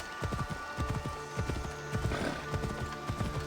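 Horse hooves in Assassin's Creed Odyssey, a close, rhythmic clip-clop of repeated galloping strikes, with a faint whinny woven in.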